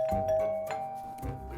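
A doorbell rings at the front door of a house with a clear, sustained chime that rings out alone, with no voices.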